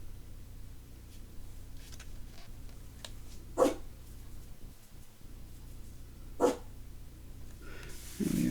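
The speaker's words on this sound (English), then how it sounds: "I think poor Bobby's been reduced to barking at flies" A dog barks twice, single short sharp barks a few seconds apart, at moderate distance over a steady low background hum.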